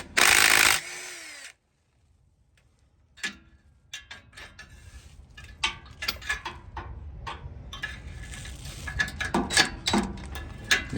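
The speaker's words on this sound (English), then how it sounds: "I'm using my little impact" Close to the mic, a small impact driver removes 5/16 bolts from a Ford F-150 6R80 transmission pan, a short whirring burst followed by silence and then scattered clicks, taps and rattles of loosened hardware.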